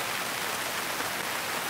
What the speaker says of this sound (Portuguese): Mas tá chovendo pra poxa, velho.